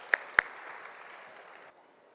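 Applause during a bouquet and memento presentation at a professional knowledge session, a soft, distant patter of clapping with two sharper claps near the start, fading out before the end.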